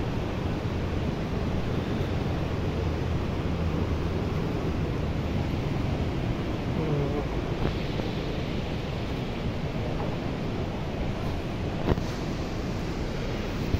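A river in Keran Valley, Kashmir rushes past close by, a dense continuous roar of flowing water mixed with wind buffeting the microphone, steady throughout.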